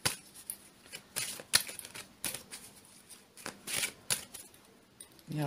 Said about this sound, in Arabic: سنخلطهم كمان مع بعض